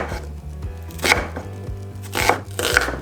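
A knife slicing through cabbage on a cutting board: a steady rhythm of crisp, close cuts with a few louder chops, over a faint low background hum.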